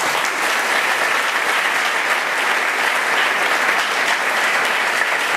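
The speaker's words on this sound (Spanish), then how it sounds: "Démosle un aplauso." A church congregation applauding, dense sustained clapping from many hands at a steady loud level with no pauses.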